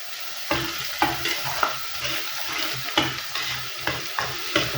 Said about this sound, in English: You're just cooking off this garlic and ginger